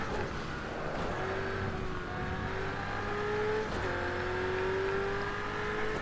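Race cars in a racing video game, including an RS01 trailing a lead GTE car, produce a steady, loud engine drone with rising whine shifts and occasional gear changes throughout, with no talking.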